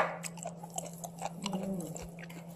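Close, moist chewing of fish with flying fish roe, soft crunchy bites repeating in an uneven rhythm with no talk over them.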